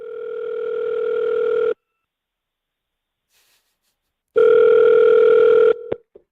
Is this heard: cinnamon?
no